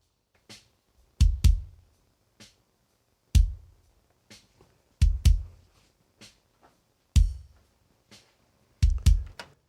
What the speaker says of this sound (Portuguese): Esse é o som do bumbo sem nada